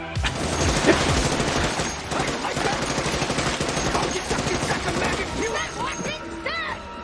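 Sustained automatic gunfire in the video game Helldivers 2, rapid dense bursts pouring out nearly nonstop and loud, with clattering impacts and voices briefly underneath.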